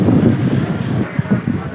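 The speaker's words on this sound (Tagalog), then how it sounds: "Grabe lakas ng hangin." Strong gusty wind buffets the microphone at Murphy Market on a stormy day, a loud, rough rumble that surges and dips in short bursts.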